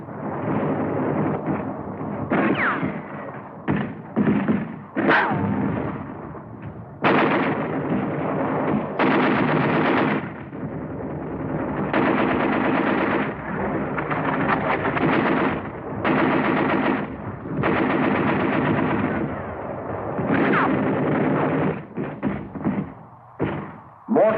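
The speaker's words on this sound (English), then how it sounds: "and automatic fire from pillboxes" A WWII battle erupts with artillery and automatic fire from pillboxes, loud bursts and rapid gunfire rattling in irregular clusters over a steady rumbling din across the whole stretch.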